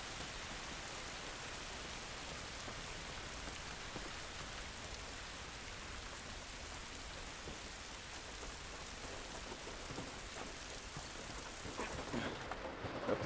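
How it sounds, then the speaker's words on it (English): Heavy rain pours steadily in the video game The Last of Us Part 1, a dense, even hiss with no break that swells slightly louder near the end. "It's raining, but it wasn't good."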